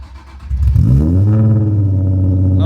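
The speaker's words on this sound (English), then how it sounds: "one of the worst sounding cars you've ever heard" A Corvette Z06 engine sits at a low idle, then revs up sharply and holds a loud, rough, buzzy drone close to the microphone.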